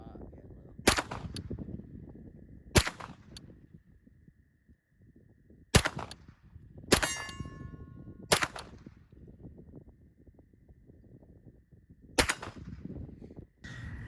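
Shots from a Sig MPX Gen 2 8-inch rifle at an outdoor range, six or so sharp, loud reports spaced a few seconds apart, each with a short ringing tail over quiet background.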